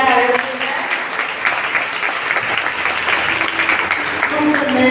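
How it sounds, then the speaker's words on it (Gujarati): Loud, dense applause from an audience at a school talent morning programme, honoring students after a play, a steady roar of clapping with voices mixed in throughout. "ફરી એકવાર જોરદાર તાળીઓ"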